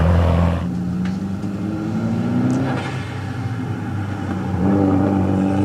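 A Nissan Skyline race car at a hillclimb event, its engine droning steadily at mid pitch and swelling as it accelerates past, loud and continuous throughout with no talk.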